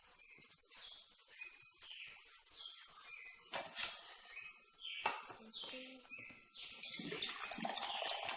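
Water from a tap runs in a steady hiss that swells toward the end, while birds chirp repeatedly in the background.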